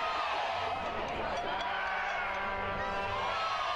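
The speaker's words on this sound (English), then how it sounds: "the crowd certainly fired up tonight" Home crowd at Sand Creek Stadium cheering at a 2015 USL playoff soccer match between Colorado Springs Switchbacks FC and Seattle Sounders FC, a steady distant roar of voices throughout.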